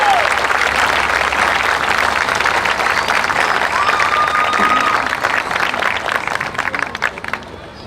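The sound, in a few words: audience applause for fair queen contestants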